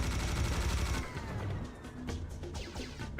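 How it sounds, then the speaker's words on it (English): Rapid minigun fire in a video game, a dense rattling burst that starts loud and continues through the clip, with shorter sharp bursts toward the end. "Minigun for maximum pleasure."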